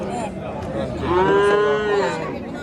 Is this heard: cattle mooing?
yes